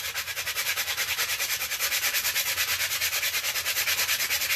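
Plastic Nerf gun sanded with 150 grit sandpaper to remove a serial number, heard as a close, loud, rhythmic scratchy rasp of quick even back-and-forth strokes.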